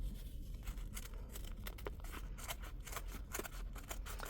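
Scissors snip through a paper belly band for a Christmas junk journal, a run of close, crisp cutting strokes in quick rhythm with no voices.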